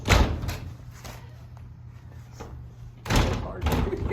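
An old wooden door inside the 1899 Booker T. Washington house, The Oaks, knocks and slams shut twice, loud and close, the thuds separated by a quieter stretch of creaking movement.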